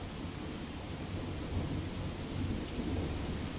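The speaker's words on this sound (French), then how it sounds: "Une tempête arrive." A thunderstorm sound effect: steady rain and low rumbling thunder roll continuously at moderate, distant-sounding level, with no voices.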